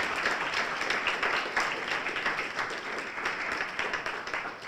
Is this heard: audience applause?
yes